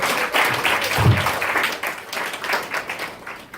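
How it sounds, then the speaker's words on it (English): A small crowd claps steadily for a few seconds, a dense patter of hands that stays fairly close and even before tapering slightly. "Give her a big round of applause."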